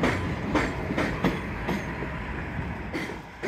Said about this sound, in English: Train inbound from Court Square, coming down from the elevated section of the 7 line.